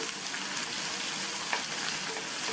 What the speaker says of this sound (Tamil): இப்போ இது எல்லாத்தையும் கொஞ்சம் வதக்கிக்கணும்.